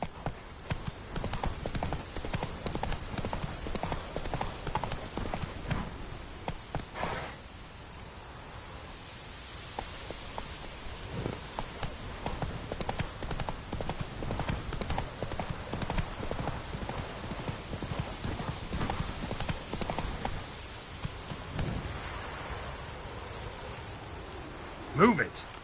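Roach the horse's hooves clip-clop in Witcher 3, a steady walking rhythm close by with faint rain-like patter behind and brief speech over it.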